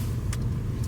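A car's low, steady road and engine rumble comes from inside the cabin on a morning commute, with a couple of faint higher ticks over it.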